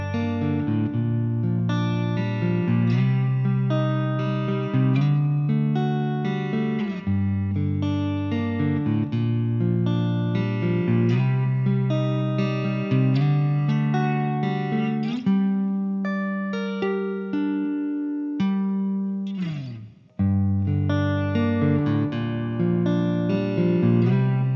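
Electric guitar played through a Peavey Transtube 100 EFX amplifier, a run of sustained chords and note lines with overdriven tone, loud and steady for most of the clip, with a brief drop near the end before playing resumes.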